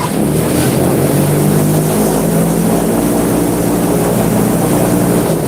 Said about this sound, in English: Excalibur was built with two 350 horsepower engines